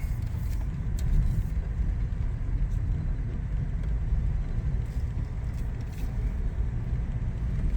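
A 1936 Packard Twelve rolls along in first gear, its engine a low, steady rumble heard from inside the car with continuous road noise and no speech.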